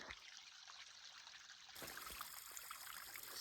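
Water trickling from a small pipe at a trail water source on the Appalachian Trail in Georgia, a faint steady flow and splash heard close up, alone.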